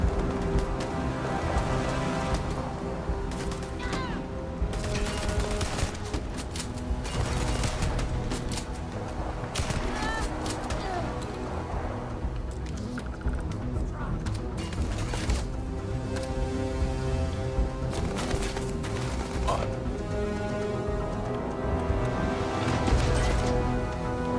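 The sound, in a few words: gun turrets firing in the video game Starfield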